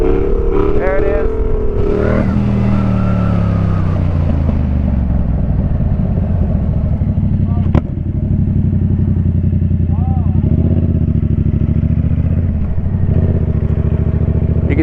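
Motorcycle in third gear during a wheelie ride, its engine droning loud and steady with pitch slowly falling and rising, wind rush throughout and a rider talking over it.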